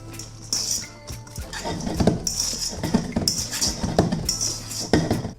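Sliced cucumber, onions and tomatoes being mixed in a dish in a home kitchen, giving repeated clinks and scrapes of cutlery against the bowl in steady bursts, close and fairly loud throughout.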